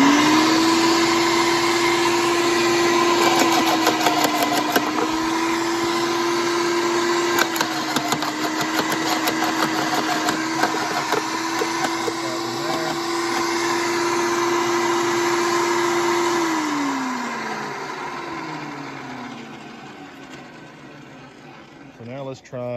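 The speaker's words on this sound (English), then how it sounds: "We're about to try the chipper alone." An electric wood chipper runs on a Bluetti AC200max power station, a loud steady motor whine holding an even pitch, then winding down near the end with a falling tone.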